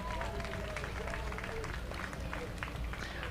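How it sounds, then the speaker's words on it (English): Crowd applause at the Tarleton State University homecoming parade in 2024: steady outdoor clapping and cheering spread along the street, mixed with crowd noise and low rumbling, with a few voices calling out over it. "Y'all give them a round of applause."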